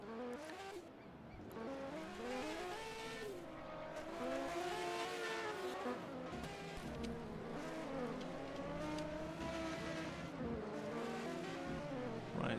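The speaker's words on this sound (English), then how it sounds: "now all the cars coming out on track, so that seemed to be audible as well" Several race cars from a 1980 Procar racing game pull out onto the German Grand Prix track at Hockenheim. Engines whine and rev continuously with many overlapping pitch sweeps, and a steady mid-level roar runs throughout.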